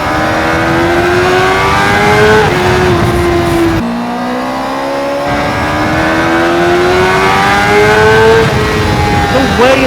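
A sport motorcycle engine revs hard past 11,000 rpm and climbs through the gears, its pitch rising steadily, with a brief drop at a shift, loud and continuous throughout.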